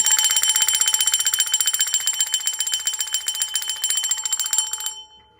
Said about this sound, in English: I'm going to ring my bell to bring in some of that good luck